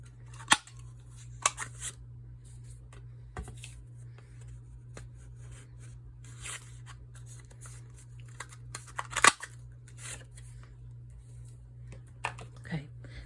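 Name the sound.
paper punch punching cardstock tag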